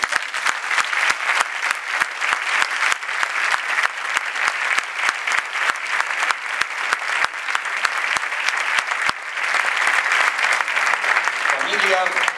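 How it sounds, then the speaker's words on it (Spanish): Steady applause from an audience at a church gathering, dense rhythmic clapping holding strong for the whole stretch and thinning slightly near the end, with no talk over it. "Y yo pido un aplauso muy fuerte por él."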